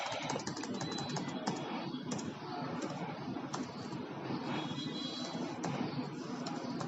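Steady computer keyboard typing during a web design coding lesson, a continuous run of close, busy keystrokes with no pauses and no talk.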